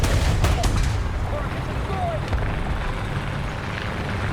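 Battle sounds from the video game War Thunder around an M6A1 tank, with sharp blasts early and a steady rumbling wash of distant gunfire and engine noise throughout.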